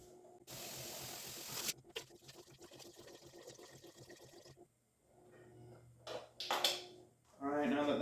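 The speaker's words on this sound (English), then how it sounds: "I'm going to fill this up with water and I'm going to dump it in as well." Water pours into a cooking pot for ham and bean soup, a loud, rushing splash for about a second, then quieter kitchen clatter and short bursts of liquid sound near the end.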